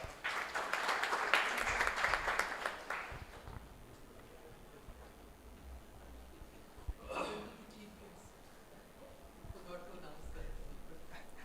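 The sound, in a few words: audience applause at ceremony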